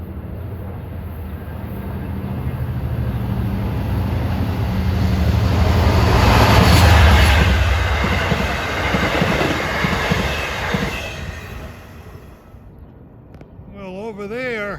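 An LIRR Jamaica-to-Montauk train passes close by, swelling to a loud rumble with rhythmic wheel clatter and brief squeal before fading, with a voice speaking near the end.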